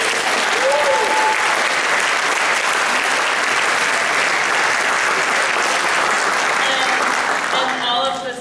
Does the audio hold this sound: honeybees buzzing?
no